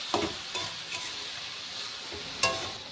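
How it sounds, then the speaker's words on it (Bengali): Bottle gourd and shrimp curry stirred in a pan with a spoon after the lid comes off, giving a few soft scraping strokes over a low sizzle, close and fairly quiet, with no talk. "ঢাকনাটাকে এবার উঠিয়ে নেব। ভালো করে একটু নেড়ে দেব।"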